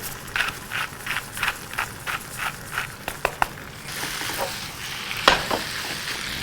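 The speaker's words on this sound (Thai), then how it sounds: "รวนให้เนื้อหมูของเราสุกดีนะครับ" Minced pork stir-fried in a pan with a little added water, a steady sizzle under rhythmic scraping strokes of a spatula, then a louder clatter and continued frying.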